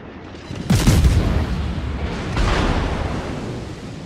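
Warship guns fire in World of Warships, a loud boom followed by a rolling rumble, then a second softer report about two seconds later that trails off into a long low roar, with no voices.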